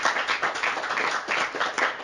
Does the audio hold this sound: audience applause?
yes